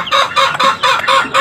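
Mother hen with three chicks, clucking in a close, loud run of about five rhythmic bursts with short gaps between them.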